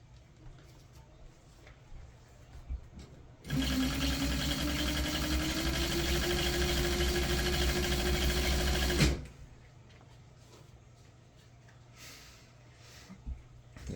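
A sewing machine stitches piping onto Triumph GT6 seat upholstery, running in one steady burst of about five and a half seconds, loud and close, then stopping abruptly into quiet room noise.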